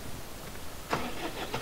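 A tractor engine cranks and catches in Farming Simulator 2013, with a low rumble followed by a sudden louder burst of ignition and a steady mid-pitched engine hum settling in.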